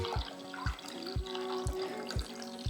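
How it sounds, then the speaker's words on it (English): Cold water is poured into a container to top up dissolved sugar water for kombucha, a close, gurgling stream broken by regular glugs and splashes as the vessel tips. "I'm just going to top this up to a litre with some cold water"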